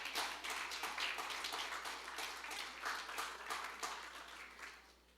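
Church audience applauding during a sermon by Pastor Eliasib Pardo, a steady burst of many hands clapping, moderately close, then gradually fading toward the end.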